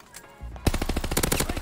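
Rapid automatic fire from an M1928 in Call of Duty Vanguard, a close, loud string of evenly spaced shots that starts suddenly after a quiet moment and keeps a steady rhythm to the end.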